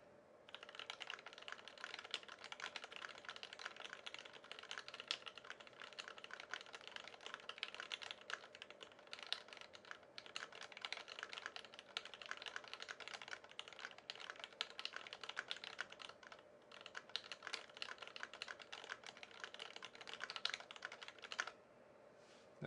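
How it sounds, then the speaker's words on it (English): Steady typing on a Monstargear XO87 V3 keyboard with JWK Lavender switches, lubed with 205G0 and filmed with Divinikey film: a continuous, even stream of close keystrokes with no talking. "Listen to how good this sounds. These are JWK Lavenders, lubed with 205G0 and filmed with Divinikey film."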